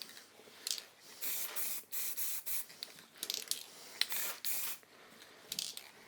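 Acrylic lacquer sprayed from above onto a textured wooden bowl in a woodworking shop, heard as a series of short and longer hissing bursts with brief pauses between them, fairly quiet and with no talking.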